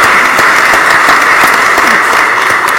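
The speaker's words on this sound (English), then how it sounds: "Give them a round of applause." A legislative chamber breaks into loud, sustained applause, dense clapping from many hands filling the room steadily throughout with no pauses and no voices heard.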